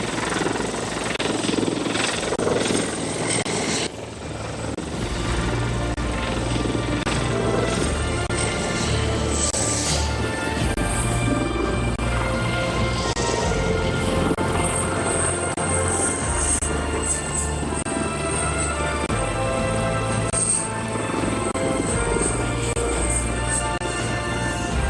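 A Sri Lanka Air Force Bell 412 helicopter taking off from Katunayake Air Force Base, its rotor thumping loud and steady throughout with continuous turbine whine close by.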